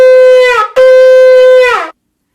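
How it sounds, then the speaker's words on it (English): A shofar sounds three longer wavering blasts in the shvarim pattern, loud and close, with brief gaps between the notes and nothing else around them. "Shvarim is made up of 3 longer notes"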